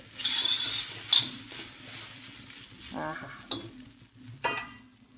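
Fasting khichdi sautéed and stirred in a pan, with a steady frying sizzle and several sharp scraping stirs of a spoon against the pan at intervals, close and moderately loud, no talking.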